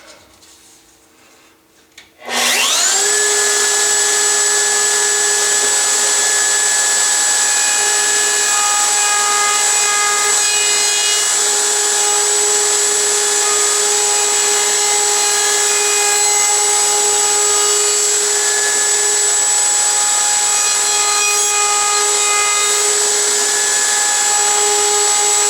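A small clamped router table spins up with a sharp start and then holds a loud, steady, high whine while beveling the edges of wooden domino holders made from scrap, running alone without talk.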